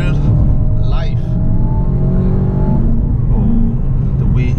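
A 2019 Mercedes-Benz A250 accelerates hard, its engine a loud, sustained drone that pulls steadily, heard close from the cabin while someone talks over it.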